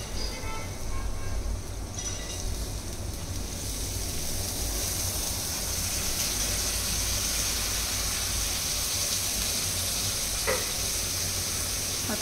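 Moth beans (matki) are sautéed in a pan with a spiced onion and coriander mixture, giving a steady hissing sizzle throughout, with occasional stirring scrapes and no talk.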